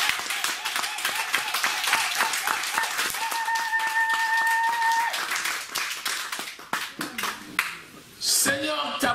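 A church congregation claps in acclaim of the Lord during a worship service, a dense run of hand claps over a sustained keyboard tone, thinning out near the end as voices come in.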